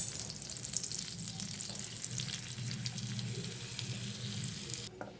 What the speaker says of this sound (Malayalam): ബട്ടർ മെൽറ്റായി വരുമ്പോൾ നമ്മൾ എടുത്ത് വെച്ചേക്കണം മൈദയുടെ പൊടിയില്ലേ അതിട്ട് കൊടുക്കണം നല്ലോണം ഒന്ന് മിക്സ് ചെയ്ത് കൊടുക്കാം